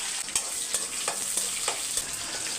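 Small shallots, two green chilies, mustard seeds, fennel, fenugreek, cumin and curry leaves fry in a pan, giving a steady close hiss broken by regular scrapes of a spatula stirring them.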